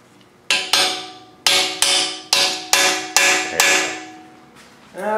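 A hammer strikes a large chisel or punch to stake an axle nut on a front-wheel-drive car, eight sharp metallic blows in an uneven rhythm, close and loud, each ringing briefly.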